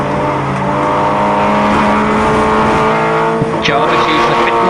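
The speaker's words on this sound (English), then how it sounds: "Then Howson slides his car through Abbey there" Stock Hatch race cars in a 2013 Round 9 race at Silverstone run through the Abbey corner. Loud engines rev and drone with a brief tire squeal, under continuous excited commentary.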